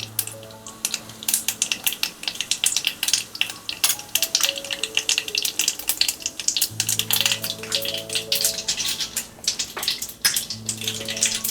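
Seeds popping and crackling sharply in hot oil, rapid irregular bursts over a low hum, close and fairly loud.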